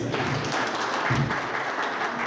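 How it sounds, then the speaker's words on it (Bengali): An audience at a puja celebration gathering claps in a brief, dense burst of applause that stays even and close throughout. "প্রত্যেকের জন্য একটা জোরে হাততালি পূজার জন্য প্লিজ"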